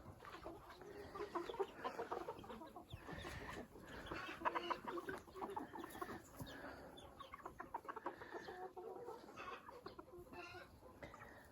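Several chickens and roosters cluck and chatter at close range, their overlapping calls coming in a busy, uneven stream with no talking.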